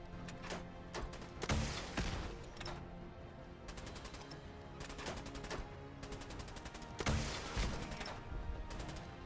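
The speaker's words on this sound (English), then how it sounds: "I'm just straight headshotting him with a missile launcher." Missile launcher shots in Wasteland Wanderer, a string of sharp, crackling blasts in rapid bursts with heavier booms between them, fairly faint overall.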